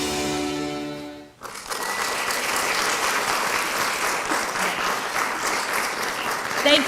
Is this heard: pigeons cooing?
no